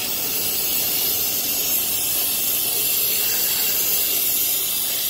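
Starting fluid hisses steadily from an aerosol can as it is sprayed onto dirty trailer disc brake parts to strip grease and oil, a continuous close broadband spray lasting the whole stretch with no talking.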